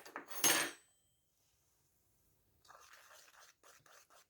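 A spoon stirs icing sugar and milk in a bowl to make glaze for gluten-free donut holes, with one sharp clink against the bowl followed after a pause by soft, quick scraping and tapping strokes, close up and quiet.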